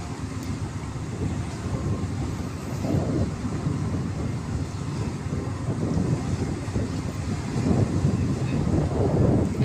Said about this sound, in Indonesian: Angin sekarang cukup lumayan sepoi-sepoi, teman.